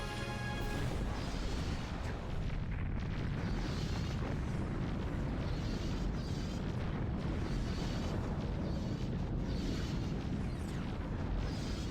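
Explosions tearing apart an enemy squadron in the space strategy game Nexus: The Jupiter Incident, a dense, loud, continuous barrage of booming blasts and rumbling crashes with no pauses.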